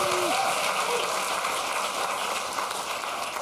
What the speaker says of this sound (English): Give Aldo an applause.